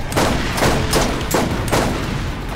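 Steady automatic gunfire from a Borderlands GOTY Enhanced co-op boss fight against Skagzilla, rapid and loud with bursts that pulse at a regular beat and no gaps between them.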